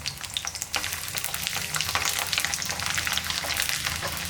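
Garlic, ginger and tamarind frying in hot oil for a Tamil-style chutney, a loud, dense, steady sizzle close by with faint stirring and no talking.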